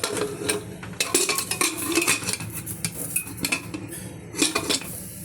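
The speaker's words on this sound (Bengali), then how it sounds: "এই আমি প্রেশার কুকারের ঢাকনাটা লাগিয়ে দিচ্ছি।" A metal pressure cooker lid is fitted onto the pot in a kitchen, giving a run of close, sharp metallic clanks and clinks in uneven bursts, with no talking.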